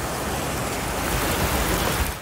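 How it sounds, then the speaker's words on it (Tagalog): Strong wind and heavy rain lash Legazpi City, Albay, in a storm news report: a steady, loud broadband roar of downpour and gusts, unbroken and close, with no voices. "Naramdaman din ang malakas na hangin at ulan sa Legazpi"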